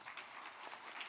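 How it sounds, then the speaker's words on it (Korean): Brief, faint applause from a conference audience welcoming a professor to the stage, a soft even patter of many hands clapping at a distance. "여러분 따뜻한 박수로 권준수 교수님을 맞이해 주시기 바랍니다"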